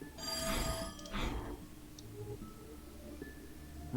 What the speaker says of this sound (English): What was that sound like a ringing bell? I think it came from this odd device.